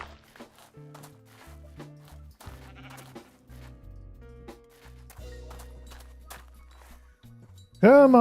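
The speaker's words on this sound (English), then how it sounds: "Come on, Mr. Sheep." Minecraft sheep bleats sound a few times over a steady musical backing, with a louder burst right at the end.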